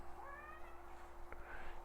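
Pet cat meowing: one drawn-out rising meow followed by a shorter second call, close by over a steady electrical hum, with no speech.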